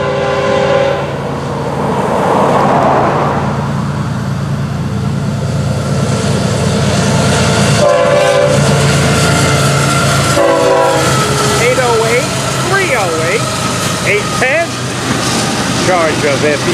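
A Florida East Coast (FEC) 101 intermodal freight train, stack cars and piggyback trailers on the head end, passes a junction on an evening, its horn sounding in sustained blasts over the steady rumble and clatter of the cars.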